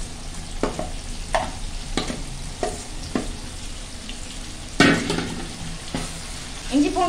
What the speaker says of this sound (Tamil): இஞ்சி பூண்டு பேஸ்ட்டு சேர்த்துட்டு பச்சை வாசனை இல்லாமல் நல்லா வதக்கி விட்டுக்கோங்க.